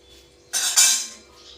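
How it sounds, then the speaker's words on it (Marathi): A metal spoon scrapes and rustles through fasting-style bhagar khichdi in a pan, one short stirring stroke of about half a second, close and fairly loud. "असं हलवायचं."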